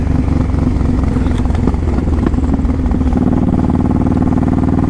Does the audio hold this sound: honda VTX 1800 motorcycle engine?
yes